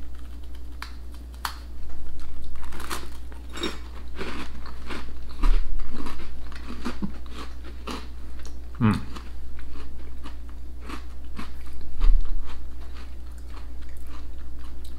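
Crisp crunching and chewing of a Fox's salted caramel biscuit, repeated bites and munching close to the mic, with a few sharper crackles and no talking.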